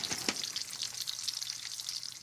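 Home fries sizzling in a frying pan, a steady close crackle and hiss with scattered sharper pops, heard alone without speech.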